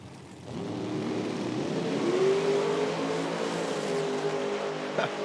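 Drag racing cars, one nitrous and one centrifugal supercharged, launch at an IHRA event in Hebron, Ohio, their engines roaring up loud and rising steadily in pitch over several seconds with no speech.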